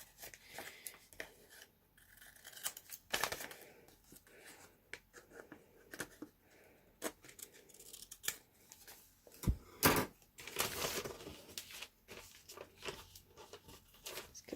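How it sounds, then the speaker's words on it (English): Scissors snip the corners off a folded sheet of paper in a series of short, crisp cuts, close and fairly quiet, with soft paper rustles and handling noise between the snips. "we're going to take a minute and just snip off the corners"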